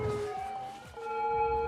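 Ambulance siren in a city-building game, a steady wailing tone stepping between pitches, moderately loud and heard alone without speech.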